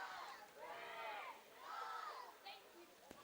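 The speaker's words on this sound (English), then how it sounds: "Student section was doing some cheer, just couldn't get it yet" A high school student section cheers at a football game, with faint, distant crowd chanting rising and falling in swells while a nearby voice speaks over it.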